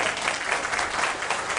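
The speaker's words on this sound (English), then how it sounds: "if you guys want to give her a round of applause real quick" At a Portland Winterhawks hockey team event in Portland, the crowd applauds in an even, continuous wash of clapping across a brief moment.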